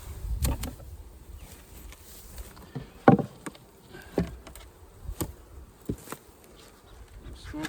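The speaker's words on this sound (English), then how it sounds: "we're going to go ahead and open up our hive and see" Honeybees from an opened hive during a summer hive inspection, a steady low buzzing hum with scattered brief knocks and handling clicks, close and moderately quiet, with no talk.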